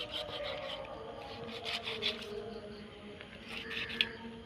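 A knife scrapes and rubs across fish at home in Kerala, giving soft, irregular rasping strokes close by, with low background hum and a faint voice.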